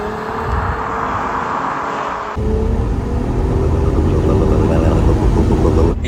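Volkswagen Passat V6 with 250 horsepower, its engine note a steady low rumble heard from inside the car, growing louder partway through as it pulls harder.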